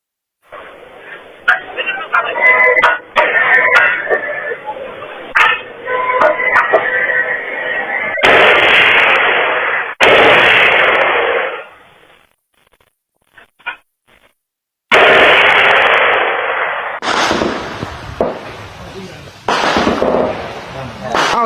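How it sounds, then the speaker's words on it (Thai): Gunfire and artillery shelling at the Thai-Cambodian border near Nong Ya Kaeo: several loud, sharp bursts and crackling volleys break through, with people talking over and between them. "ยิงกันแล้ว"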